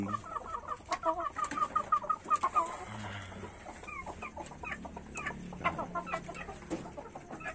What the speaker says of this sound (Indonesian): Ini ayam saya yang mau bertelur.